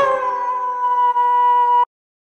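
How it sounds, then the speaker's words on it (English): A single wolf howls in one long, steady, clear tone held for nearly two seconds before cutting off, loud and close with no other sounds. "Wolf."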